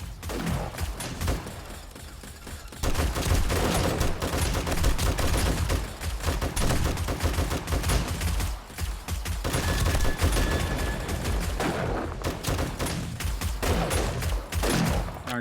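Steady, loud gunfire from a gun in 7 Days to Die, repeated shots in rapid succession almost continuously, with a brief lull near the start.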